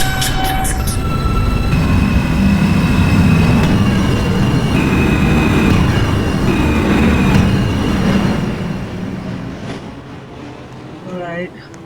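A westbound 2 train on the Greater Figglehorn metro runs loudly with rumbling wheels and rail noise, steady then fading as it slows, with automated announcements and a voice over it.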